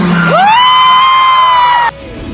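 Crowd at a celebrity mall event in Robinson Naga, screaming and cheering: a loud, sustained high-pitched shriek from many fans that swells and holds for about two seconds before cutting off, leaving general crowd noise.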